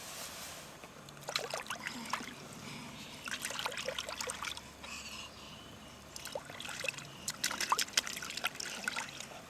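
Water trickles and splashes in irregular bursts at close range, the patches of splashing and dribbling separated by quieter stretches over a soft background.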